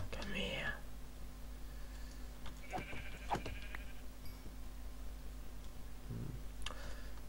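Sheep in the video game Beyond let out a few short, nasal bleats spread across the moment, over a low steady hum, with faint whispery voices nearby.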